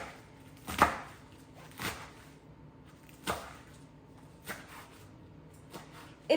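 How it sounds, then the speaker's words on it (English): A knife slices through food on a board for a gluten-free ramen meal, with sparse, separate sharp cuts spaced a second or so apart, close and fairly quiet. "I'm gonna slice this into a couple slices and add it to this bowl"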